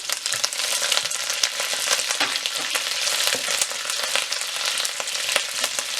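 Garlic cloves and curry leaves fry in oil over a low flame with a dense, crackling sizzle. Constant stirring scrapes run through it at close range, and no voice is heard.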